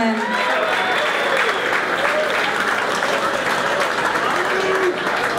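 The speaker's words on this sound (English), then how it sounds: "Let's give these two fighters one more round of applause" A fight crowd at a 2012 flyweight bout applauds the two fighters, loud sustained clapping with crowd murmur and scattered voices riding over it.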